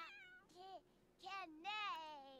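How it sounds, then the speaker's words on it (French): A cat in The Sims 4 video game meows three times, with drawn-out, rising-and-falling calls separated by short pauses, clear and fairly close with no talk over them. "Ah, mais c'est le chat."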